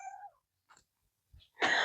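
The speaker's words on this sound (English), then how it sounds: "I have a cat coming in here. Do you hear him?" A cat meows a few times, short faint cries close by in a quiet room, followed by a louder rustle at the end.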